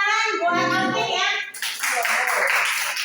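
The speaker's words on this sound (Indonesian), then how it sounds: "tepuk tangan buat Alvin ya" Clapping in a classroom, a short burst of many hands that follows children's voices and runs steadily to the end.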